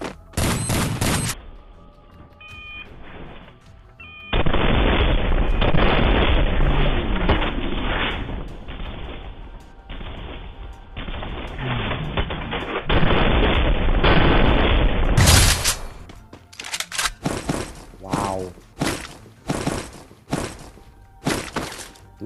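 Shotgun fire in the Free Fire mobile game: loud, booming blasts in several clusters, a long dense volley in the middle, then a string of sharper separate shots near the end, with no talking.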